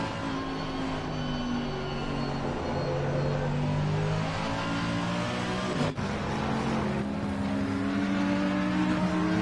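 A race car at the Nürburgring brakes hard into a right-hand corner and then accelerates away, its engine note dropping, dipping briefly, and then climbing steadily in pitch, close and loud with no talk.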